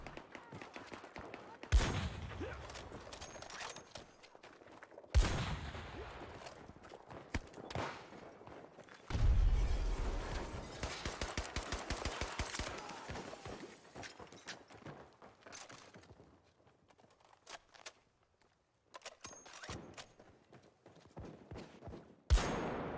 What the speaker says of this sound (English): Somebody else is shooting at me now.